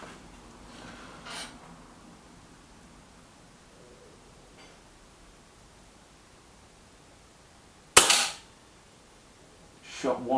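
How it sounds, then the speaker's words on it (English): A Gamo Venari air rifle fires at a target, one sharp loud crack near the end followed by a second shot starting at the close, separated by quiet background hiss. "5 shots into the first target."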